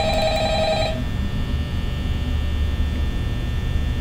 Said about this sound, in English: Okay, the phone ring.